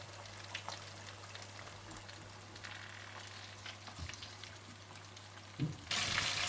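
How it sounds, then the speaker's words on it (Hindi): Flour-coated chicken wings deep fry in hot oil, a faint, steady crackling sizzle with scattered pops over a low hum, ending in a sudden burst of louder hissing. "आप तेल गरम कर लीजिएगा और इन्हें डीप फ्राई कर लीजिएगा"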